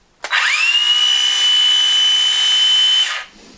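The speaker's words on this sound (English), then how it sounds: "it's a light duty saw" A Craftsman light-duty circular saw spins up quickly, holds a steady high-pitched whine for about three seconds, then winds down, running free and close with no talk.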